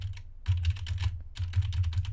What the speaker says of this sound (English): You can hear the keyboard clicking